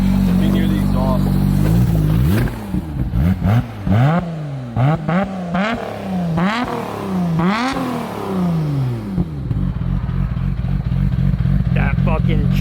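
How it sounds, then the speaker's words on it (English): A rebuilt Nissan 400R revs hard through its exhaust, several sharp climbing blips with choppy decay between them, loud and close, then settles into a steady lumpy idle. "Let's get some revs. Let me hear the exhaust."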